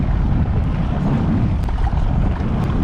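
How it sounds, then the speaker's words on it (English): Strong wind buffets the microphone while kayaking, a loud, continuous low roar with steady gusting rumble and no pauses. "this wind is crazy"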